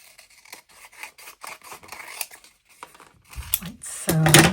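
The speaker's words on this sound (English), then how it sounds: "we'll get a piece of transfer tape. This one. And cut it out." Scissors snip through a piece of transfer tape at close range, a quick run of crisp cuts and rasping scrapes, ending in a louder burst of handling.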